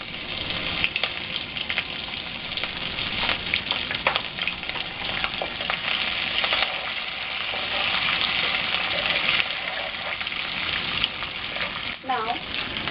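Curry leaves and finely chopped green chilies spatter in hot oil for onion poha, a continuous bright sizzle with scattered pops and crackles, close and fairly even throughout.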